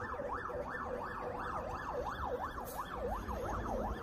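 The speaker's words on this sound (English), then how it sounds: "it's a fire truck. It's not even an ambulance." A fire truck siren in a rapid, regular up-and-down wail, loud and sustained across the whole stretch with traffic rumble beneath and no talk.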